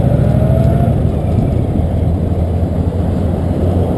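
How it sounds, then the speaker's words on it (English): An Indian Chieftain motorcycle's engine rumbles steadily with dense low-end roar, holding fairly constant at close range as it is put in gear and pulls away under power. "It's a matter of just hooking it into gear and off we shoot."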